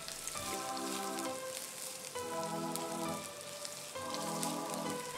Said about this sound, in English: Saute this till it's fragrant.